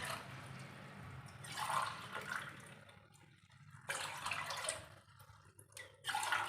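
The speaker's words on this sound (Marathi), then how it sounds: "इथे आपण चार ग्लास पाणी घालून घेऊया" Faint water running and splashing into a pot in a couple of bursts, with quieter dripping gaps between them, four glasses of water poured in for making urad dal papad.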